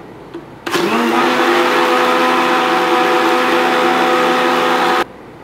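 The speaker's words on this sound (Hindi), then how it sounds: "इसको आप ग्राइंड करो।" A kitchen blender grinds salted Punjabi lassi made with ice, half a teaspoon of salt and a little water, running as one loud, steady whir for about four seconds that starts and stops abruptly.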